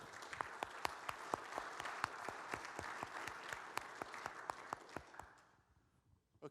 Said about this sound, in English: So let's give a round of applause for and also all the other veterans as well